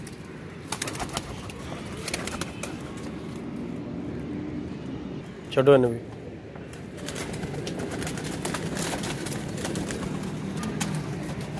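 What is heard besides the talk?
pigeons cooing as they are released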